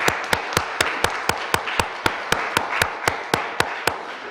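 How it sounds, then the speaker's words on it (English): At a board meeting honoring a champion girls' volleyball team, a single pair of hands claps in a steady, evenly spaced rhythm, fairly close and moderately loud over a light room background. "Let's give them a round of applause."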